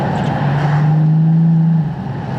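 A 5,000-pound Bentley's engine drones steadily from inside the cabin while driving, a low sustained hum that eases off near the end.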